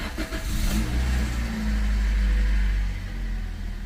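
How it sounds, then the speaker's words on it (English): A Toyota Yaris Mk3 1.33 VVTi petrol engine catches and settles into a steady idle, a close, continuous low hum with a brief rev near the start and no voices. "start the engine up, let it run for a few seconds"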